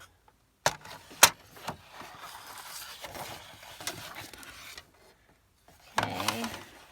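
A 12-inch sheet of paper is cut down to size in a journaling craft session. A few sharp snips and rustles come up close in separate bursts with quiet gaps between them.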